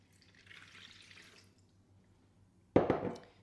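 Water poured from a container into a bowl of sourdough starter for bread dough, a faint trickle followed by a brief louder splash near the end, with no talking.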